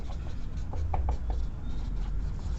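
Chalk or marker strokes on a board during a lesson, short scratchy taps and strokes over a steady low room hum, fairly close and moderate in level, with no speech.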